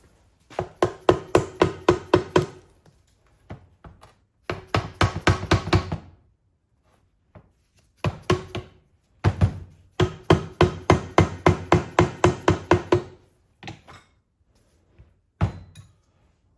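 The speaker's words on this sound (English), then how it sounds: "let's have a soft hammer." Bursts of rapid soft-hammer blows on a 1914 Napier water pump, struck in quick rhythmic runs with short pauses between, close and fairly loud, plus a few isolated single knocks.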